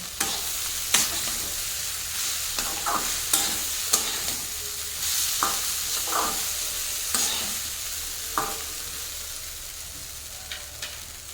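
Chow mein tossed in a pan with chopped onion, cucumber and green chili, stirred in a steady series of close spatula scrapes and clacks over a continuous loud sizzle, with no voices.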